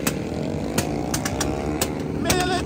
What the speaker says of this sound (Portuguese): deixou a moto correr na zona de perigo